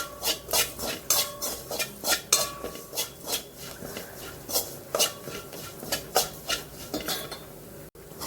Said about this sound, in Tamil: கைவிடாமல் கிண்டிகிட்டே இருங்க